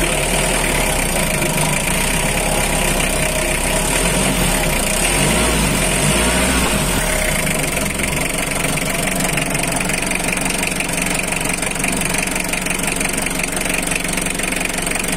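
A 2005 Mitsubishi L300 pickup engine idles steadily and loudly nearby, a continuous low rumble with a slight knock that barely changes throughout, with no talking over it.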